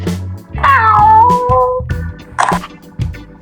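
A cat meowing in the video game Toca Boca World, loud and close: one long drawn-out meow followed by a shorter second one, over a plucky background tune.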